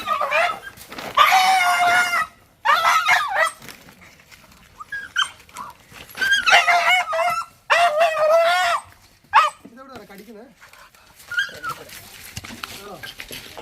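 Dog with a pipe stuck on its head yelping, whimpering and crying in repeated loud bursts with short gaps, close by, while people talk around it.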